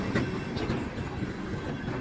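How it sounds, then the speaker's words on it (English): A CSX freight train of fresh hopper cars, including an asphalt hopper, rolling past on the Grand Rapids Sub: a steady, loud rumble with rhythmic wheel clatter, heard close and without talk. "let's just skip right to the end of the train after these fresh new hoppers roll by"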